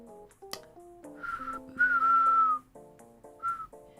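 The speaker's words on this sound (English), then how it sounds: "I can whistle." A person whistles a short, clear tune alone, sliding between sustained pitched notes with brief pauses between phrases, close and moderately loud with no talking.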